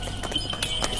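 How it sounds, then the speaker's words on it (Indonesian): A horse-drawn carriage approaches in a rainy, thundery night setting, a brief run of rhythmic hoof clops over a noisy, hissing background with no talking. "tiba-tiba terdengar suara kereta kuda dari kejauhan"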